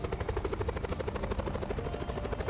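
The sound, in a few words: helicopter in video game Black Ops 4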